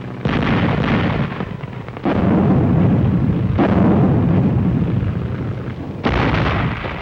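Howitzer artillery fire from 105 mm batteries booms in heavy, rumbling blasts, four separate shots spaced a couple of seconds apart, each followed by a long rolling decay under a continuous low roar.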